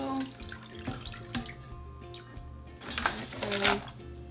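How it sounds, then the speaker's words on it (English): Tap water running over a raw homemade nitrite-free corned beef at a sink, an irregular splashing and trickling stream with clinks and handling sounds, close and fairly quiet. "We're gonna rinse it off, and then we're gonna give this thing a taste test."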